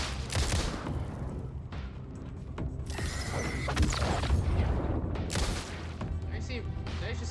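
Bursts of gunfire and sharp flashbang blasts from the Alan Wake II video game come in dense, loud clusters layered with mechanical game effects, while a player talks over them.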